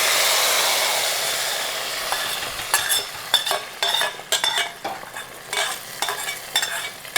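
Hot tempering seasoning poured into a Tamil fish curry sets off a loud hiss that fades, followed by a series of scraping stirs and clinks of a spoon in the pan.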